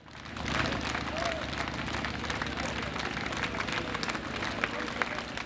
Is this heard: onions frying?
no